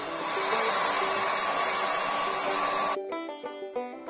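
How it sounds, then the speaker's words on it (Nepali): A hair dryer blows on a painted cartoon drawing to dry the colour, a loud steady whirring hum held for about three seconds before it shuts off abruptly. "त्यसकारण कलर छिटो सुकोस् भनेर मैले ड्रायर युज गर्दैछु।"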